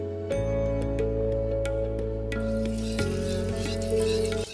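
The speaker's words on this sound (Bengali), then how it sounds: "একটি কড়ার মধ্যে সর্ষের তেল, হিং আর শুকনো লঙ্কা ফোড়ন দিয়ে" Mustard oil tempering with asafoetida and dried red chilli in a karahi, a loud continuous crackling sizzle with a strong low steady hum beneath and occasional sharp pops.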